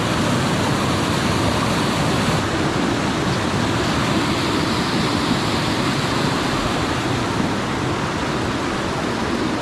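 A strong, swollen river rushes past close by, a loud, continuous broadband roar of turbulent water with no break across the whole stretch.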